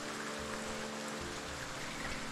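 Steady rain falls in the game Foundation, an even, continuous hiss of drops with no break, soft and wide, with no talking over it.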